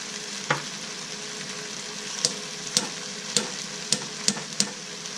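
Tomatoes and tomato paste sizzle steadily in a pot while a spoon stirs them, scraping the pot in a series of sharp, near clicks at an irregular rhythm over the constant frying hiss.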